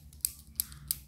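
Three crisp snips from a child's toy scissors in a pretend doctor play set, evenly spaced about a third of a second apart, close and fairly quiet over a low background hum.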